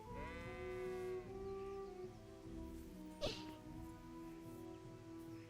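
Sheep in a video game bleat in wavering, quavering calls, a couple of overlapping bleats near the start followed by a short sharp click, fairly quiet and alone without talk.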